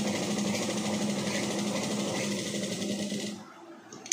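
A sewing machine stitches chudidar pants cloth with a fast, even mechanical whir close by, running steadily for about three seconds before stopping, followed by a faint click.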